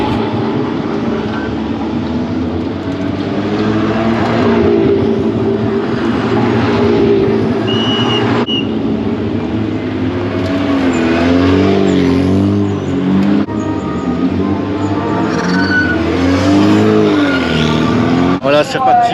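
Alpine A110 GT4 race cars roar past on a circuit, engines loud and sustained with rising and falling pitch as they pass, while a commentator talks over them throughout.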